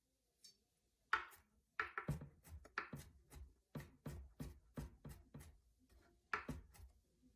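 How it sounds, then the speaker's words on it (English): Knife chopping ginger on a board in a home kitchen, a steady series of crisp, close taps in short irregular bursts with brief pauses between strokes. "you want to chop that or mince that in smaller pieces"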